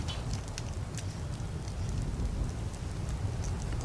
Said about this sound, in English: Oh, would you believe it? It's raining.